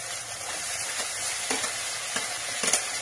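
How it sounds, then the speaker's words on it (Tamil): Chopped tomatoes go into green masala frying in a pan, giving a steady, moderate sizzle with a few soft stirring scrapes and clicks. "இப்போ வந்து நம்ம கட் பண்ணி வச்சிருக்க தக்காளியையும் சேர்த்துக்க போறோம்"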